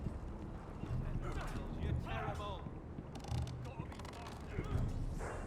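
A horse in the Game of Thrones Telltale video game, with steady hoof clip-clops and snorts mixed with game ambience and other effects at a moderate level.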